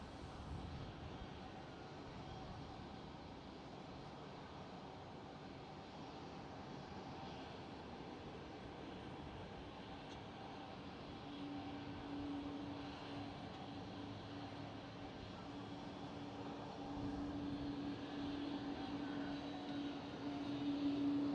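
An Embraer E195-E2 airliner rumbles at Schiphol Airport as a steady, distant, low engine drone under broad airport ambience, with a faint rising whine building toward the end and no talk.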